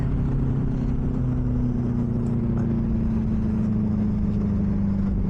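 A Benelli 600i motorcycle's exhaust held in third gear, a steady loud drone with a strong low engine tone that slowly falls in pitch, continuous and close with no talking.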